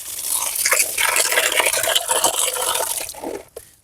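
Rapid, continuous swishing and scraping of something being stirred in liquid, close and fairly loud, ending with a few slower clinks.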